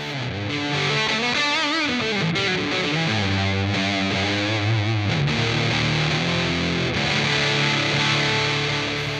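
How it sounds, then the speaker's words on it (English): Electric guitar through a Walrus Audio Melee Wall of Noise reverb and distortion pedal, a thick sustained wall of noisy chords playing continuously, loud and dense. "reverb and distortion, have been harnessed and woven together for an eternity of ethereal distortion"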